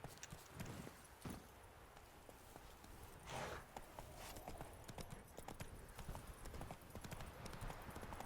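Roach, the horse in The Witcher 3, gallops with rapid, even hoofbeats throughout, faint and steady beneath a dense wash of background game sound.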